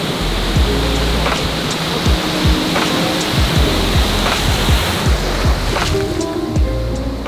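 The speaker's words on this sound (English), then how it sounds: "The waves here are insane." Ocean waves break on a warm-water Hawaii beach in a steady, loud roar of surf, with repeated crashes and hissing wash, and no voices.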